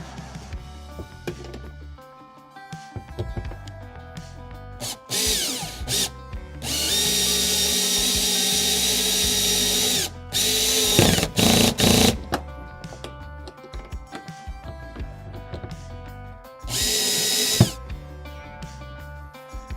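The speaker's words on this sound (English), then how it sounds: "a Phillips drill bit with a drill set on a medium clutch to tighten up your fasteners" A power drill with a Phillips bit on a medium clutch setting whirs in several bursts driving screws into a kayak fitting, one long steady run in the middle and shorter pulses around it, with clicks and handling noise between.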